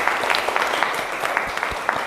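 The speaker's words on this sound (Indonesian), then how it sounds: "beri tepuk tangan dulu untuk kita semua." A classroom group applauds after a discussion session, dense steady clapping from several people filling the short moment at moderate loudness.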